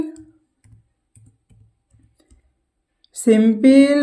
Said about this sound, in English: Then you click on the indicators. After indicators you click simple